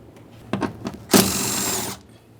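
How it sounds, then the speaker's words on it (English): A power tool whirs steadily for about a second while backing out 10mm-headed mounting bolts around a door panel on a 2009-2014 Nissan Maxima, after a few short clicks and taps. "Now we're going to start removing all of our 10mm headed mounting bolts that make their way around this panel."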